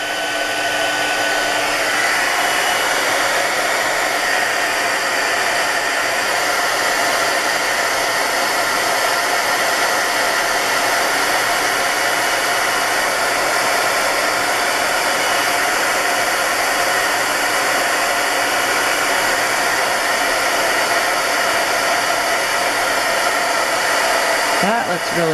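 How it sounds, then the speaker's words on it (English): Embossing heat gun blowing hot air, a loud, steady, close whooshing roar that runs without a break the whole time. "I'm going to have to turn my embossing tool on. My heat gun."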